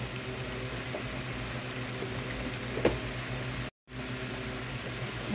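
Ginger and garlic paste fries in a pan for a rui fish bhuna, a steady close sizzle and bubbling that stays even throughout, broken once by a brief moment of silence.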